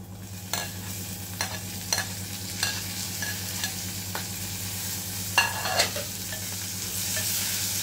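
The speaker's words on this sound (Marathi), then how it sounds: "टोमॅटो टाकून घेऊया" Tomatoes dropped into garlic frying in ghee for dal fry, giving a steady sizzle with sharp stirring scrapes and clatter at intervals, loudest near the end, and no voices.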